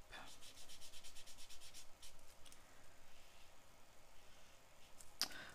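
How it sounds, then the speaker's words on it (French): An ink pad or applicator is rubbed over a handmade Christmas card along the wood grain, making a faint, rhythmic papery scrubbing of quick strokes, followed by a single soft click near the end. "je passe un petit peu d'encre dans le sens du bois"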